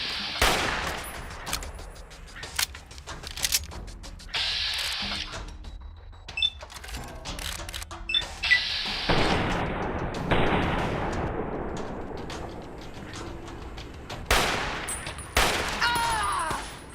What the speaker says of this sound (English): They'll wait until they see Nephi, and then they'll start shooting.